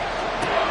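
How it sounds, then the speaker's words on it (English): Stadium crowd at Arrowhead roaring steadily in a Madden 24 football game, a dense broad wash of cheering that swells slightly midway through the short stretch. "The Arrowhead crowd in full roar."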